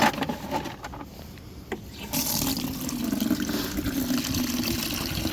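Rainwater streams steadily from an allotment water butt, a continuous close splashing rush that strengthens after a brief quieter spell and then holds at an even level.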